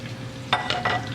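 Minced garlic is stirred in a pot for French onion and potato soup: a soft sizzle runs under three quick scraping strokes of the spoon, close and clear.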